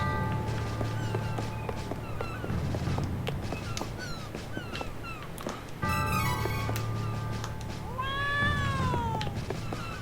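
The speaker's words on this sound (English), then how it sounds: "Kitty!" A cat in the video game Trials of Mana Remake meows repeatedly over a steady background hum, with several clear rising and falling cries and a longer caterwaul near the end.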